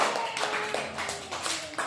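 Small children clapping during a classroom letter-recognition activity: a loose run of quick, uneven handclaps at moderate distance, fairly quiet, with faint voices in the background.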